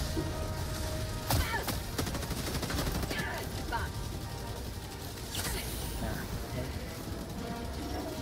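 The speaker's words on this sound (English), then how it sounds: "I chucked every single grenade I had at the tank, it worked." Grenade blasts and heavy gunfire hammer an armoured tank in the shooter game Helldivers 2, with a rapid clatter of bursts and sharp explosive cracks over continuous battle noise, loud and close.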